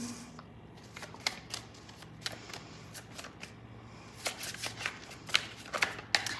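Tarot cards are shuffled close by for a Capricorn reading, giving quiet, repeated papery riffles and soft taps in irregular bursts, without any speech.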